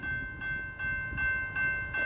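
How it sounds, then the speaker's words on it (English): An Amtrak train approaches a historic station in Palatka with a steady rumble and a sustained high tone, likely brake or wheel squeal, as rail cars roll past in repeating surges. "Alright, here comes the train."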